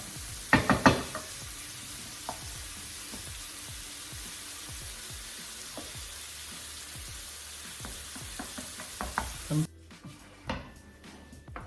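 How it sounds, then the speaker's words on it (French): Prawns frying in a pan with garlic and parsley crackle and sizzle steadily up close, with scattered sharp pops and a few stirring clatters. The sizzle cuts off abruptly near the end. "mes crevettes sont cuites. Elles sont bien revenues dans l'ail et le persil."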